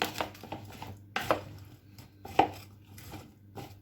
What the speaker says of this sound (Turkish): bütün patatesler, sıvı yağ ve baharatlar ulaşana kadar hepsini karıştırıyorum.